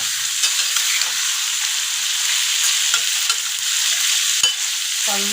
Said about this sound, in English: After adding turmeric, we should mix it.